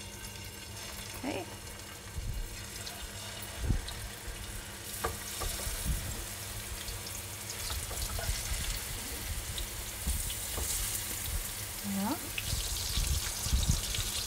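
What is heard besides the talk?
lamb kebabs frying in hot oil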